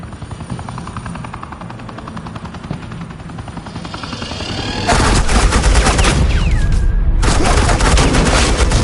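Heavy suppressing gunfire erupts in a Batman video game with a helicopter thrumming, sustained automatic bursts hitting loud and close after a lower rotor rumble, then stopping abruptly before resuming.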